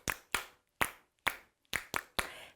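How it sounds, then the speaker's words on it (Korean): Toddlers at a church infant-department service clap their hands, seven separate sharp claps in an uneven rhythm, close and fairly loud with silence between them. "박수 소리"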